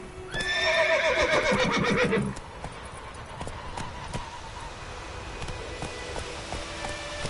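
Roach the horse in The Witcher 3 gives a loud, close whinny lasting about two seconds, then hooves clop and plod faintly along afterward.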